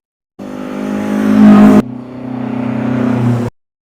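A 1:24-scale BRM BMW 2002 slot car in Warsteiner livery whines along the track. Its high-pitched motor builds to a peak, drops abruptly, then holds a steady buzzing run before cutting out, with no talk.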